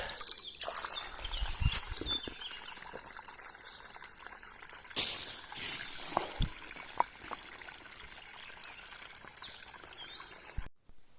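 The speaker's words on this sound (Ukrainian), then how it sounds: "а струмок як біг, так і біжить" A mountain stream in the Carpathian forest trickles and pours continuously, close and fairly quiet, with occasional splashes and faint handling noises.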